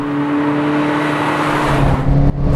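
Fiat Ritmo Abarth 130 TC engine revs hard and steadily with a strong droning tone and raspy, rough edge, loud and close, then briefly dips near the end before surging again.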